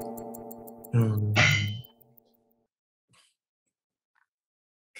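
A Rolex Explorer wristwatch clinks once with a bright metallic clang that rings out briefly and then fades to near silence. A few faint ticks follow.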